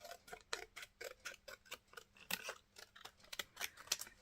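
Scissors snip paper for a handmade collage, a quick run of close, crisp cuts in an irregular rhythm, each snap sharp and fairly quiet, with no voices.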